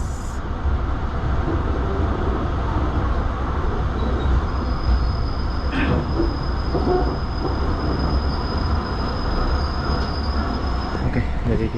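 Commuter train stopping at Gambir station in Jakarta, a continuous loud rumble of railcars with a sustained high wheel squeal running through most of it, no voices.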